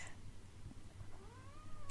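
A young kitten indoors lets out a drawn-out, rising meow near the end, fairly faint against a quiet room hum, with no one speaking over it.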